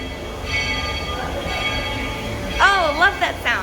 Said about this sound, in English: I love hearing the train whistle.